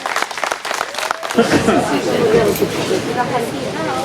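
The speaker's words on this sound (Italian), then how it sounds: "un applauso speciale ad Angela" At a flower festival event, a crowd's clapping starts sparse and then swells into full, continuous applause, with a voice speaking at the start.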